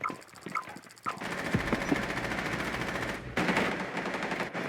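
Rapid automatic fire from an ARX rifle in the video game Rainbow Six Siege, a sustained burst of loud, dense shots lasting several seconds after a few scattered opening sounds.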